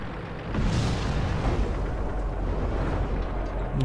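Tank cannon fire and explosions in the World of Tanks video game, a loud booming blast that opens into a sustained, roaring rumble and slowly decays, with no talk over it.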